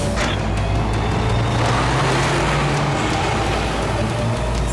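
A cartoon car speeds through a chase, its engine roaring loud and steady from start to finish with a dense, rushing rumble and no break.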